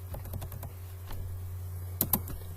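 Quick, light keystrokes clatter on a computer keyboard in irregular bursts, with a couple of sharper, louder key presses near the end, all close and quiet against a low steady hum.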